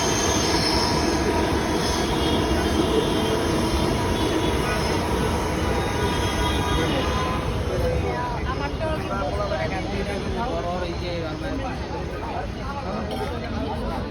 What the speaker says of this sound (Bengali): এদিকে আবার মেট্রো যাচ্ছে।